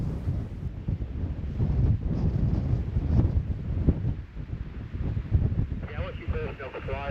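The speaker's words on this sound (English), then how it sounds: "because it is that windy" Strong wind roars and buffets the microphone outdoors in heavy, gusting bursts, with faint voices partly buried beneath it.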